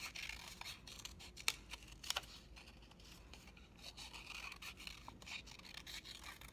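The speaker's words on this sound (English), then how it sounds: "I'm going to cut out my second one here." Paper silhouette being cut with scissors: quiet, close, intermittent snips and rubbing scrapes, with a few sharper cuts, and no voice.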